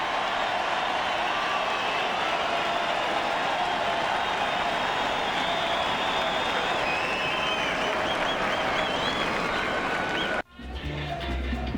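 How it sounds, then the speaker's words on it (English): Loud, sustained applause and crowd noise from the Yankee Stadium crowd at a 2003 Twins–Yankees baseball game, with first and second and two outs, a continuous roar of clapping for about ten seconds before cutting off abruptly. "Listen to the hand from the Yankee Stadium crowd."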